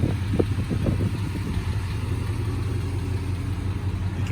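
A 1995 Chevy K1500 Silverado with a 355 TBI V8 idles through its exhaust from the header back, a steady low rumble with a possible gasket leak, close and continuous.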